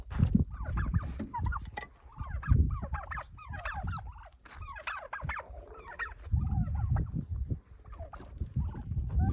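Emerald black turkey hen, distinct from the American bronze, giving repeated clucking and gobbling calls close by, with other fowl joining in over a steady background rumble.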